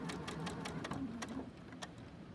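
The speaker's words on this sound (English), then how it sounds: "We're gonna sew that corner on." A sewing machine sews the corner of a mitten, its needle running in a steady, close, continuous whir with quick repeating pulses throughout.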